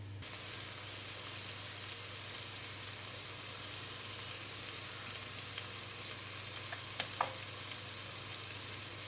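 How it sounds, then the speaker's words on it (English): Food fries in a pan for nettle and dandelion soup, giving a steady, even sizzle throughout with a couple of faint clinks near the end and no talk. "been frying for about 10 minutes."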